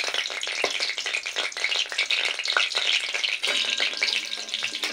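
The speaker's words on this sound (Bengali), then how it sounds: "এবার ফোড়নটাকে সুন্দরভাবে গন্ধ ওঠা পর্যন্ত ভেজে নিতে হবে।" Panch phoron tempering spices fry in hot oil with bay leaf and a dried red chilli, giving a continuous crackling sizzle with sharp pops and rattling spatters, close and fairly loud, no voices.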